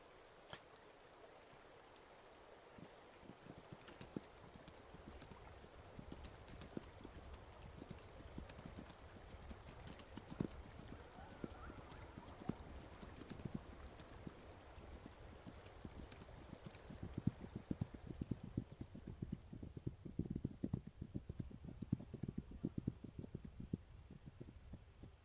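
Horse hooves clip-clop steadily over rough ground in The Resistance of Black Fox, a faint continuous patter of footfalls that grows slightly busier toward the end, with a soft flowing-water-like background.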